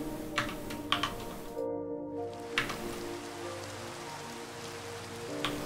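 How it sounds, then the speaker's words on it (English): Steady patter of rain fills the background in the game Minecraft, with a few sharp clicks and a brief gap partway through, heard alone without voices. "Of course it's raining now."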